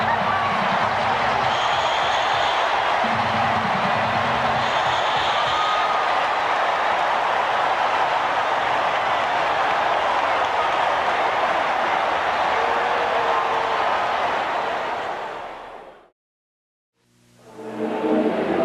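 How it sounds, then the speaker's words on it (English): A packed ballpark crowd roars after the game-ending strikeout in Game 2 of the 1988 World Series between the Dodgers and Oakland, a loud, sustained wall of cheering with scattered whistles that runs for about fifteen seconds before cutting out abruptly. "Ball game is over. Bob Welch, a tremendous pitching performance. Listen to the crowd."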